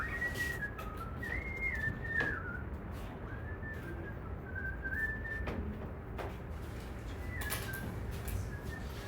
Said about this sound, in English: You're very good at whistling